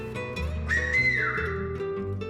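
In the Canary Islands' Silbo Gomero, the word caca comes as a short whistled phrase. A bright tone holds and then slides downward, heard against a murmuring background.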